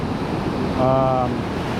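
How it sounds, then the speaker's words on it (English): Steady ocean surf washes continuously against a shore at high tide, with a dense, even roar of water and wind and no distinct breaks standing out. "There's hardly any crashing waves in front of me, and then there's a lot of dark water, and then the big waves are way out there."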